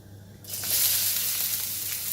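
Small amount of oil sizzling in a pan for aloo paratha, a broad steady hiss that swells in after a quiet start and holds near and fairly loud.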